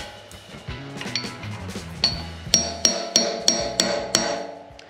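Hammer blows driving retaining clips onto a Dana 60 front axle in a shop: about eight sharp metallic strikes, the last several in a steady rhythm, close and loud with no talk.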